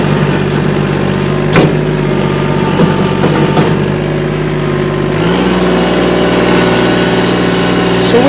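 Engine of a 2022 Kubota L2501 compact tractor loader reversing in four-wheel drive, a steady close idle-level drone with a slight shift in pitch partway through, running alone without talk.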